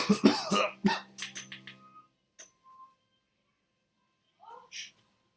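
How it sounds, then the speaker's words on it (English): A cluster of harsh, close coughs at the start, followed by quiet with a couple of faint clicks and a brief throaty sound. "It starts with the cough."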